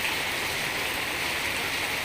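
Light, steady rain falls in Chiang Mai, an even, continuous hiss of drops on surfaces at moderate volume with no voices.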